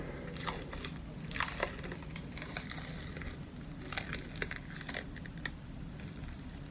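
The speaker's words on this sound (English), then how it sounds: "But you just peel it off." A damp peel-off face mask being pulled away from the skin, giving soft crinkly, sticky tearing crackles that come in short bursts over about seven seconds, close and quiet with no talking.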